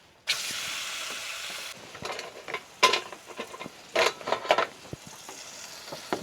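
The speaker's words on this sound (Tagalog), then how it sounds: "Lagyan natin ng mantika. Painitin muna natin. Lagay na natin yung steak." Steak searing in hot cooking oil in a pan at a rainy, windy solo campsite, with a steady close sizzle broken by bursts of spattering and scraping as the meat is moved.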